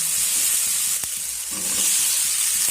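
Fried potatoes go into a pan of prawn masala that is already sizzling in oil, giving a constant loud hiss and crackle, with a sharp clack and a few soft stirring scrapes over the frying.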